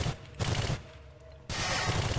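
Bursts of automatic gunfire in Soldier of Fortune II, two loud rapid strings of shots separated by a short lull.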